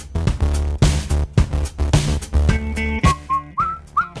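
A person whistles a run of sharp tonal notes, some held and some rising, at close range with no talk.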